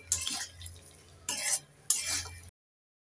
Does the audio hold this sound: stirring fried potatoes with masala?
yes